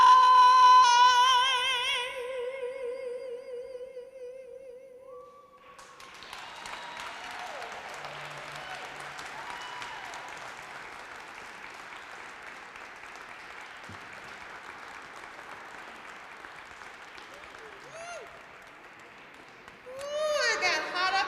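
Audience applause after a vocal performance at a Black History Month opening ceremony. A final sung note fades, then sustained clapping fills the room for about fifteen seconds before a voice returns.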